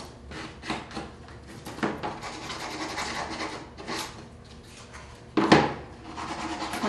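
A wood surface is roughed up by hand before staining, giving scattered scraping and rasping strokes at uneven intervals, close and moderately loud, with a sharper knock near the end.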